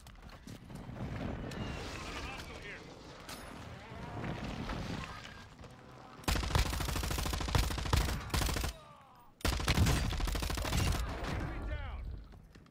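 Sustained bursts of rapid machine-gun fire from a RAPP H LMG in Warzone, loud and dense, ringing out in long runs broken by a short gap, with chaotic game noise and layered effects beneath.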